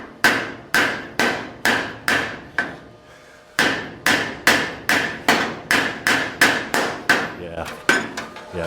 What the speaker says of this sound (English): I'm going to end up hitting this apparatus for the camera with the hammer